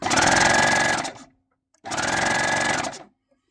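A Baby Lock Acclaim sewing machine stitching under finger press, two fast whirring bursts of about a second each separated by a short silence, close and loud with a rapid mechanical chatter.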